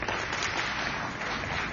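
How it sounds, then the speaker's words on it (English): Audience at an ISNA panel event applauding the panelists, an even, continuous wash of clapping from a crowd, steady and moderately distant throughout. "A big round of applause for our panelists,"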